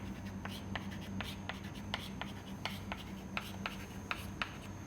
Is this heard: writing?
yes